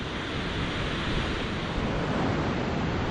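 Waves wash steadily onto a beach in a dense, continuous roar of surf, mixed with gusty wind noise buffeting the microphone throughout.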